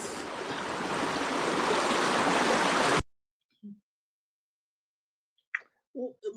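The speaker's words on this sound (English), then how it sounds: "Let's cross this river." Rushing river water fills the first half with a loud, steady broadband wash, then cuts off abruptly, leaving near silence broken by a few brief voices.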